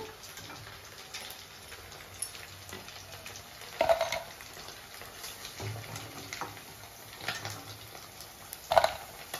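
Chicken pakodi frying in hot oil, a steady soft crackle with a few louder pops and bursts of stirring, close by and fairly quiet, with no voices.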